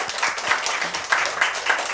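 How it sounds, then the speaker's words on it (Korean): Congregation applauding during a Sunday church service, a dense wash of many hands clapping at moderate level with no voices, filling the whole brief stretch. "다시 한번 우리 박수 한번 할까요?"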